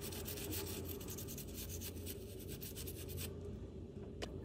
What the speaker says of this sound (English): Just apply isopropyl alcohol directly to the affected components, and gently scrub the area with a soft brush.